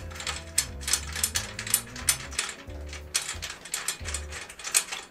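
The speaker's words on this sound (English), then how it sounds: "If you like metal clanging sounds, this is for you." A drum key ratchets around metal tension rods as they are loosened on a drum hoop, a close, fast run of metallic clicks and clanks over a low, uneven rumble, steady throughout.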